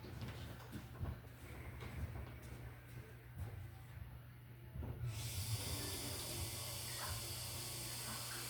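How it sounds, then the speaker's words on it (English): Water from a tap runs steadily to wet a sponge while a vintage lamp is rewired, a continuous splashing rush that grows fuller about halfway through. "We'll wet our sponge."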